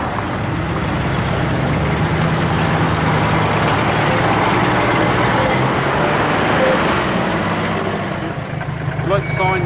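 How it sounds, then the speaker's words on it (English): Elderly classic car engines rumble at a stately home's lanes in late summer, a steady low idling drone from several vehicles nearby, continuous throughout, with a voice talking over it. "rumble of elderly engines."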